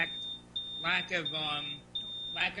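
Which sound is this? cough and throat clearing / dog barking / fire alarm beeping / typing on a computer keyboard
fire alarm beeping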